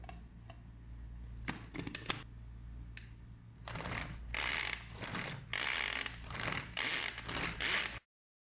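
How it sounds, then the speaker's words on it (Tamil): A knife finely chops small onions (shallots) on a board, a run of quick, close, crisp taps that start sparse and build into dense bursts of rapid chopping. "முதல்ல ஒரு 15 சின்ன வெங்காயத்தை நல்ல பொடியாக சாப் பண்ணிக்கலாம்."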